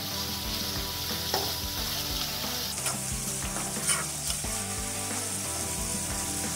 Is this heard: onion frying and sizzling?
yes